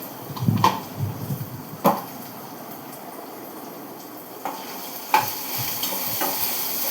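A spoon stirs a potato, cucumber and tomato curry with turmeric and salt in a hot pan, giving a soft sizzle under a few sharp scraping knocks against the pan.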